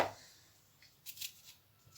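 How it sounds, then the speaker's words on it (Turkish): A few quiet knife chops of onion on a board, widely spaced, over faint room noise. "çorbamızın ilk önce altına soğanını doğrayacağım."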